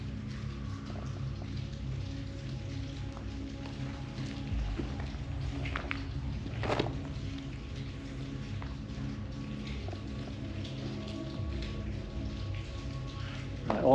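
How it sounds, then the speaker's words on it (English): Steady rain patters on a surface with scattered drips inside the old Thurgoland railway tunnel, a low hum underneath and a sharp knock in the middle. "All I can hear is rain, water, rainwater and tap."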